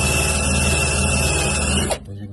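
An eraser wheel spun by a drill strips stickers off glass with a steady, loud whirring grind that runs continuously for about two seconds, then stops abruptly.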